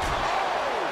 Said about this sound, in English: Driving down with the sledgehammer.